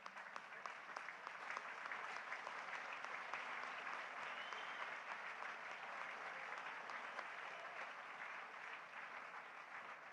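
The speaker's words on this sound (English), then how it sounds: "it is only the clapping that will encourage him" An audience at a public platform event in Lagos claps to welcome a shy speaker, a sustained, crisp patter of many hands lasting about ten seconds with no pause.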